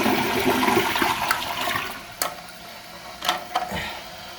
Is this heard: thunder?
no